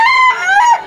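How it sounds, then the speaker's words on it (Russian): A chicken of unknown breed gives one loud, close, harmonic call lasting under a second, heard alone. "А вот курица какой-то неведомой породы."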